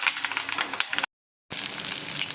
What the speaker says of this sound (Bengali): তেলটা কিন্তু গরম হয়ে গেছে এবার কলা পাতায় যে বেঁধে রেখেছিলাম সেগুলো একটা একটা করে দিয়ে দিচ্ছি